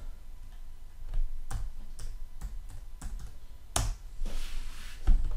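Someone types on a computer keyboard nearby, a run of crisp, irregular key clicks with a few louder taps, no voices.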